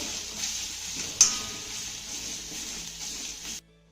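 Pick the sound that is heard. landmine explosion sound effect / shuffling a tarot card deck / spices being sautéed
spices being sautéed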